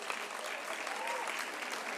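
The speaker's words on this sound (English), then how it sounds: "That is something that I think deserves another round of applause" Faint, steady applause from an audience at an arts festival opening ceremony, a continuous distant wash of clapping with some voices underneath.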